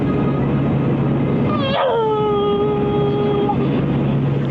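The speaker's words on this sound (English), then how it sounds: "Come on, doggy. Hey, doggy. Get out of the way." A dog outdoors in snowy Wyoming lets out a single rising yip that slides into a drawn-out whining howl, heard over a constant loud rumble of wind or engine noise.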